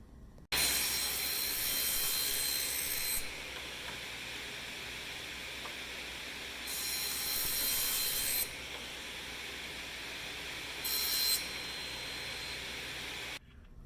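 Wood pieces being cut to 4 by 4 inches for a small woodworking gift project, a steady broadband rasping cut running almost nonstop for about thirteen seconds, louder in three bursts, close by with no talking.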